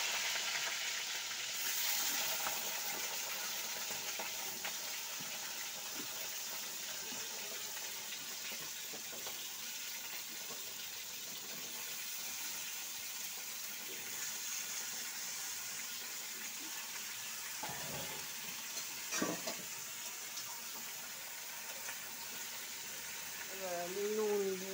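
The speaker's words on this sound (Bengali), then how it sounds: "ঝিঙে আলু একবারে দিয়ে দিচ্ছি ভাজার জন্য।" Ridge gourd and potatoes frying in a pan: a soft, continuous sizzle of oil with occasional stirring scrapes and clinks, faint and steady throughout, with a few brief sharper knocks.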